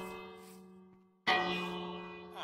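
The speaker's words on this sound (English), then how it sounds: "I'm just ringing the bell" Bell rung in Minecraft: two clear metallic strikes, each ringing out with a long, slowly fading tone, the second louder than the first.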